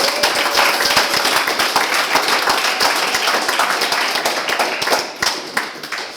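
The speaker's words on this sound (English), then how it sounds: "I would like to hear your absolute loudest round of applause" An audience claps enthusiastically, dense applause that stays loud and steady before thinning slightly near the end.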